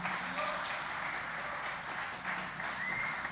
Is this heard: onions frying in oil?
no